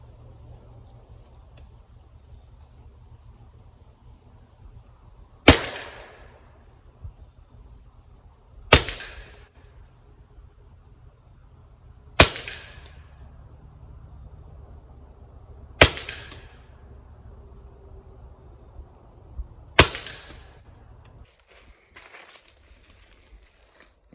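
Five sharp, evenly spaced gunshots from a rimfire firearm loaded with CCI standard ammunition, each a loud crack with a short decaying tail and quiet gaps of a few seconds between them.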